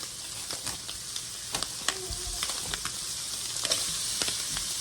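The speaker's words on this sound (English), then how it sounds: "we are going to cook that until the onion is softened" Chopped onion fries in butter in a pan, a soft steady sizzle with scattered crackles and pops and occasional stirring scrapes, close and fairly quiet, no talking.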